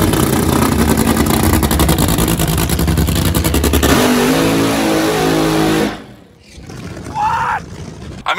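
A loud NHRA drag racing car at the Gator Nationals revs hard with a dense, steady roar that stays near. It then cuts off abruptly to near quiet, followed by a brief rising whine.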